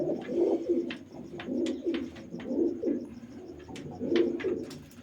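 Loft pigeons sitting on their young, cooing in repeated, rolling phrases at a steady rhythm, several bouts in sequence, close by and clear with no voices over them.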